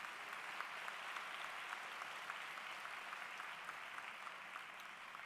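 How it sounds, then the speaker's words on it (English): A school event audience applauding during a superintendent's program, a steady sustained wash of many hands clapping at a distance, even and continuous throughout. "How about another round of applause for those wonderful things that you've shared?"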